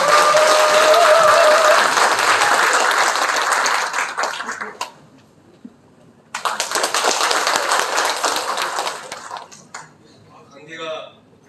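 An audience at a ceremony breaks into loud, close applause that lasts a few seconds, fades briefly, then swells into a second round of clapping before trailing off.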